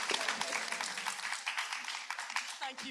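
A seated audience at a formal plenary meeting claps steadily for a returning chair, a dense, even patter of many hands that carries on throughout without a clear peak.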